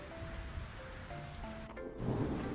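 Steady rainfall in the farming game Fields of Mistria, a soft hiss beneath gentle melodic game music, ending in a slightly louder splash of sound effects.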